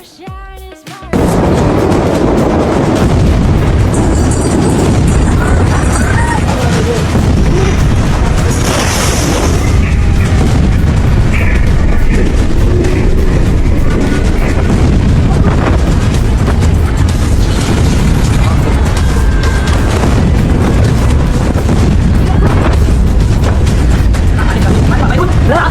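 A huge explosion blast erupts into a loud, sustained roaring rumble that goes on for many seconds, dense with crackling and deep booming, close and overpowering from start to finish.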